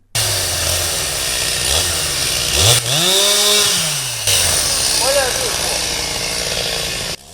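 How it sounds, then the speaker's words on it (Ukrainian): A chainsaw roars continuously nearby in a forest during illegal oak felling, its engine pitch rising and dipping as it revs, with voices speaking over it. "йдемо на звук бензопили, а там кипить порубка"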